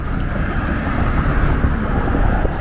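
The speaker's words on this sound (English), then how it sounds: "It's a little windy." Steady wind blows on the Seattle waterfront, rumbling across the microphone in a constant, noisy rush near open water.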